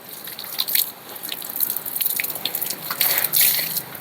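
Water drips and trickles from wet trousers wrung out by hand after washing, a close patter of small splashes with brief louder bursts, no talking.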